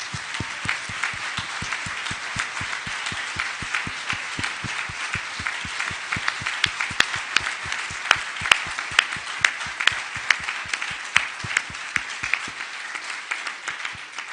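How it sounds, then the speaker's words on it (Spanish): An audience at a conference claps in a loud, steady rhythm, with sharp, regular beats in unison that carry on alone for a long stretch without talk. "Un fuerte aplauso por ella."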